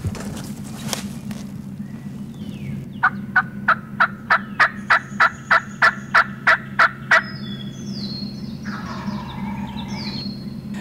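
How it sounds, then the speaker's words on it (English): A wild turkey gobbles a rapid run of about a dozen evenly spaced notes over a steady low hum, with faint bird calls afterward. "gobblers will travel their strutting routes gobbling to try to call other hens to them"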